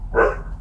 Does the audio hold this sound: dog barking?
yes